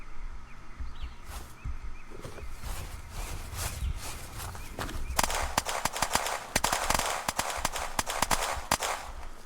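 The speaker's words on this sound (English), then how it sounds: "Who's shooting like crazy?" Pistol gunfire in a crowded Unturned player-versus-player battle in Washington, starting as sparse distant pops over background noise, then turning into rapid, dense volleys of sharp shots.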